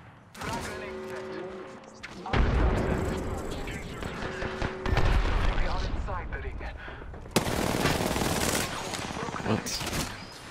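Bursts of automatic gunfire come from the Apex Legends battle royale game. Rapid volleys start and stop in loud clusters, mixed with game voice lines and a player talking over the shooting.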